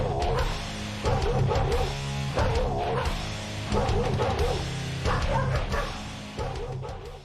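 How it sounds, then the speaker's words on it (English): Dogs bark in time with the beat of a song, their yips and bow-wows falling in regular bursts over a steady musical backing. "the dogs were barking on cue, like with the beats"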